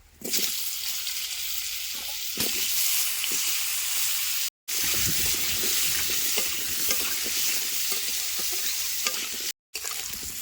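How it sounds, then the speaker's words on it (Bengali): Steady sizzling of potatoes frying in hot oil, with occasional stirring scrapes and clinks, close and continuous, with no talking. "আলুগুলো দেখেন বেশ সুন্দর একটু ভাজা ভাজা হয়ে আছে"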